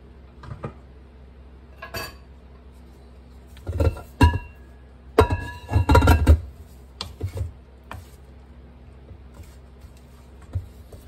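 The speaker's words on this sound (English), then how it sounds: "I'll take that spoon and I'll make sure everything down in the very bottom is stirred up and on the sides" A spoon stirs pineapple banana bread batter in a bowl, scraping the bottom and sides. Sharp clinks and knocks against the bowl come in scattered clusters, loudest in the middle, close up, with no talking.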